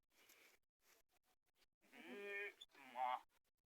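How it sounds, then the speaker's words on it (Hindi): Goats bleat close by in a rural setting, two or three short wavering cries near the end between quieter gaps, with faint voices of people around them. "देखा भैया कितनी सुंदर बकरियां हैं"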